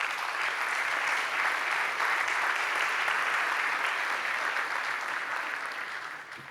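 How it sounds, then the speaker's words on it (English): An audience at a Religions for Peace world assembly plenary applauds the panelists, a dense, steady wash of clapping that holds evenly before fading slightly at the end. "Please give the panelists a round of applause."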